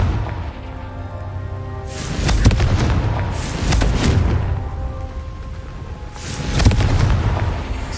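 A Confringo fire spell in Hogwarts Legacy going off as a few deep, booming explosive blasts with crackling bursts, spaced a couple of seconds apart over a low rumbling bed.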